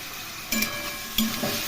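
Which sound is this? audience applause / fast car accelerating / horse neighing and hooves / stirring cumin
stirring cumin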